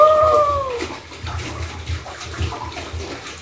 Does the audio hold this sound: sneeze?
no